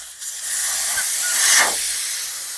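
Air rushing out of an old tire on a Ford Excursion V10 after the valve core is removed, a loud, steady broadband hiss lasting a few seconds, close up.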